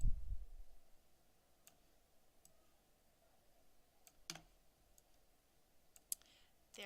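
Sparse, faint mouse clicks while pictures are dragged into order on a computer, several isolated sharp ticks spread across a quiet background with no talk.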